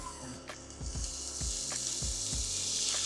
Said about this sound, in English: I am going to saute some garlic, some onions